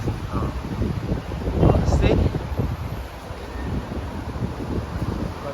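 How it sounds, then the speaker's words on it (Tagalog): Strong wind in Kuwait at the start of winter, gusting and buffeting loudly against the microphone with rustling, while someone talks over it. "Oh, grabe hangin."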